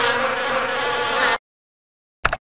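Buzzing bees in the Bailey's Book House computer game, a loud continuous insect drone that stops abruptly, then a short burst of buzzing returns after a gap.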